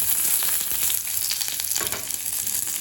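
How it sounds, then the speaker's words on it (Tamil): Mustard seeds, urad dal, a chili and curry leaves sizzle and crackle steadily in hot oil for a peanut chutney tempering, a continuous close frying hiss with small pops throughout. "இப்போ சட்னியை தாளிச்சிக்கலாம். தேவையான அளவு எண்ணெய், கொஞ்சம் கடுகு, கொஞ்சம் உளுந்து, 1 மிளகாய்,"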